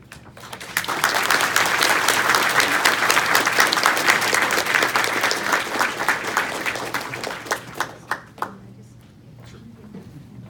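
An audience at an AI lecture breaks into applause for the keynote speaker, a dense, sustained ovation that swells quickly and stays full for several seconds, then thins into scattered individual claps before dying away.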